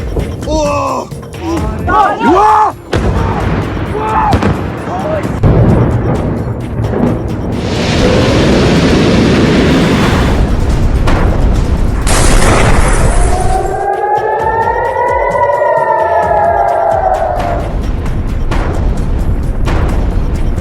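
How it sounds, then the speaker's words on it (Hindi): Loud explosions and artillery blasts in Tehran on the first day of war, heavy booms with rising and falling siren-like wails, under a dense roaring backdrop and some talk. "युद्ध के पहले दिन जोरदार धमाका हुआ"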